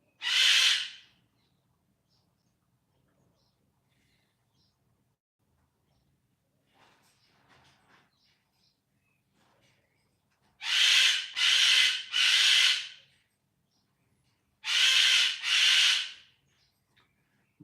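An upset bird gives harsh, loud calls: one short burst at the start, then after a long quiet gap a run of three close calls and a final pair, each near and standing alone.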